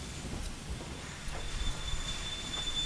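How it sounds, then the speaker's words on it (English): A passenger train arriving in the video game Train Empire rumbles steadily with low clattering and faint wheel squeal, a thin high whine running through the mix. "Here comes in my other train,"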